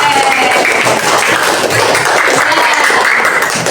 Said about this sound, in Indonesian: Tepuk tangan untuk Mas M.